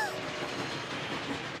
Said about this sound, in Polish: O, pociąg jest bliżej niż myślałem.